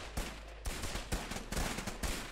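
AK rifle gunfire in a video game, a fast burst of repeated loud shots crackling over a dense, steady din with no talking.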